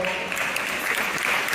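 A group of people applauds in a radio studio during a live morning news broadcast, with steady, moderately loud clapping throughout.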